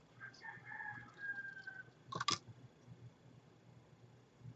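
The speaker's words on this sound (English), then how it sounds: "I hear my neighbor's rooster is waking up." A neighbor's rooster crows once, fairly distant and brief, rising out of quiet indoor room tone with faint rustling before it.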